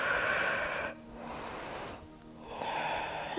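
A person takes slow, deep breaths during a morning yoga side stretch, two soft airy inhales and exhales close by, separated by quieter pauses.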